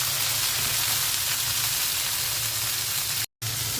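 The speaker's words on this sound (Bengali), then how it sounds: "চিচিঙ্গাটা ভাজতে বেশি সময় লাগবে না" Ridge gourd frying in a pan with salt, a dense hissing sizzle like steady rain, close and continuous apart from a brief cut near the end.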